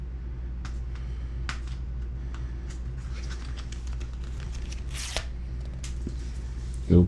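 Packaging of a deep blue iPhone 17 Pro Max being unboxed: soft, continuous rustling, sliding and peeling of the box with scattered light ticks and scrapes, close up, and a brief louder thump at the end.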